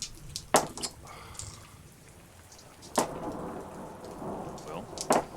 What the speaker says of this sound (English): Lightning rains down on the boat.